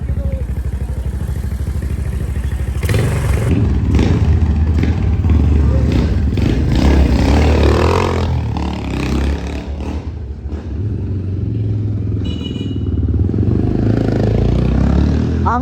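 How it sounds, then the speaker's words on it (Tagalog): A 500cc motorcycle is kicked over repeatedly, giving loud close mechanical thumps and clatter with a rough engine roar that surges and fades, while people talk nearby. "Nakakailang sipa na siya. Ayaw pa rin mag-start. 500cc yan?"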